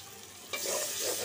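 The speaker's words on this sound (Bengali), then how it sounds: "মশলাটা একটু কষানো হোক।" Spice masala stir-fried in a pan for a hilsa fish curry with snake gourd and potato, a steady close sizzle and scraping stir that jumps louder about halfway through and continues without talk.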